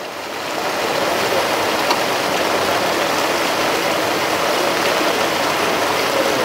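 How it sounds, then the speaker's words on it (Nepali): Dirty water pours from a water tank being washed out at the Bhalu Khola spring source, a constant loud roaring rush that swells in at the start and holds steady. "यहाँ पानी मजाले झरिरहेको छ"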